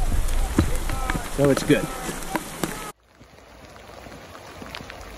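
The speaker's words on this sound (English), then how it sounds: "now it's hailing again" Hail and sleet pattering down in a canyon, a dense crackling patter of icy drops that runs loud for a few seconds under a brief spoken remark, then drops abruptly to a much quieter, softer fall.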